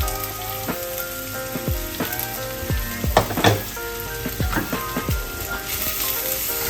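Chili and Huajiao peppers with Huajiao pepper powder sizzling in hot oil for mapo tofu, a steady close crackle and spatter with sharp ticking pops and occasional stirring clatter, no talking.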